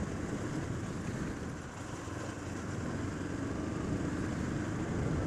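A 2013 Honda CB500X motorcycle on the move produces a steady, unbroken roar of engine and wind rush that holds at an even level throughout, with no voices.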